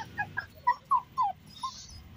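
A young golden retriever puppy, under two months old, lets out a series of short, high, thin whimpers and yips, about seven soft cries spaced irregularly.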